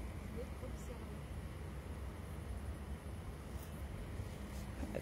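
Wind buffeting a microphone outdoors near a chapel at dusk, a steady low rumbling roar that fills the whole stretch without letting up, fairly faint overall.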